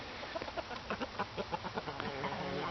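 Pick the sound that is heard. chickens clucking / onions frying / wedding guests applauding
chickens clucking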